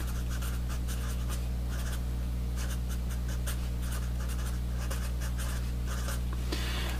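Marker or chalk writing on a board in a lecture room, soft scratchy strokes in quick bursts over a steady low hum, close and alone without talk.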